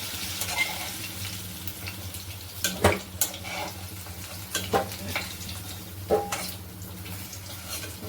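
Potatoes frying in hot oil in a pan, partly cooked for a Bengali rui fish curry, give a steady close sizzle broken by several sharp clinks and scrapes of stirring, with no talking.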